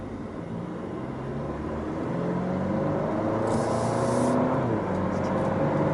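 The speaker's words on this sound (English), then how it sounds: "sometimes I hear the engine, it sounds a little weak" A 2017 Audi A4 Prestige engine hums steadily from inside the car, its pitch rising gradually as it gains speed, with constant road rumble underneath.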